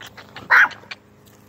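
A dog gives one sharp, loud bark close by, surrounded by quieter yips and huffs over a brief stretch.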